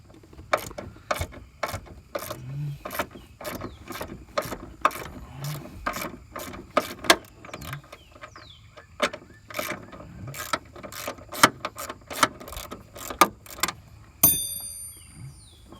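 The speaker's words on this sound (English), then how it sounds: "We'll use that little wrench." A small ratchet wrench works loose tight coilover bolts on a car, giving rapid bursts of close, crisp clicking. Short pauses separate the bursts, and a sharp metallic clank comes near the end.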